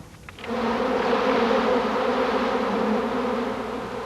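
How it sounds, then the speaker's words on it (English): Bumblebees buzz steadily and loudly around a beekeeper in an outdoor bush, a continuous droning hum with no voices. "The bush is buzzing with the rumble of the humble bumblebee"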